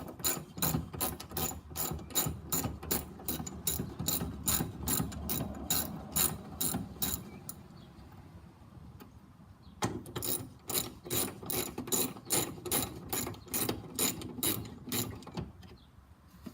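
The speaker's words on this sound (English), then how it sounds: "now it's just a matter of loosening these up and getting them out" A ratchet loosens the bolts of a Lexus GS tail light, with rapid, regular close clicking strokes in two long runs separated by a short pause.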